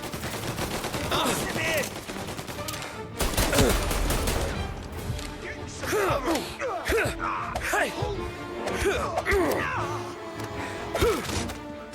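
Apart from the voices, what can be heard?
gunshots in the video game Mafia: Definitive Edition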